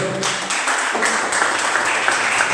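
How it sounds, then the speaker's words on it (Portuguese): A worship service congregation claps in praise after a prayer, a dense, loud wash of hands filling the church hall without pause. "as palmas do Senhor"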